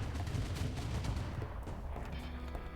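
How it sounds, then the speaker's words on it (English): Mortar fire in Rimworld during a final assault on an ice sheet: a dense run of booming impacts and shots, heavy low thuds stacking quickly with little space between them. "Mortars are now up."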